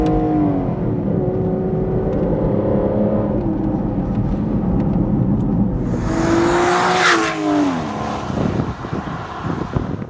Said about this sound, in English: downshift into the corners.